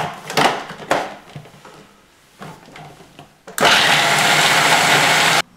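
Food processor grinding praline with icing sugar: a few short scraping knocks and brief bursts, then a loud steady whirring grind that starts abruptly and runs to the end.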